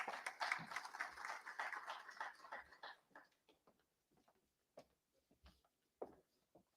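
Audience at an Indian logistics and supply chain conference claps for a speaker: a dense burst of applause for about three seconds, thinning out into a few scattered, fading claps in a quiet hall.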